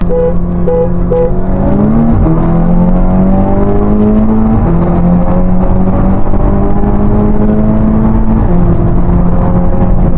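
Cars revving engines at a night street race meet in the Netherlands, a loud close engine drone that climbs and shifts pitch through several revs with a rapid rattling pulse over it, steady throughout and no talk.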